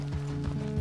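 Horse hooves clip-clopping at a steady walking pace in Red Dead Redemption 2, a few soft thuds under a low ambient hum, fairly faint and close.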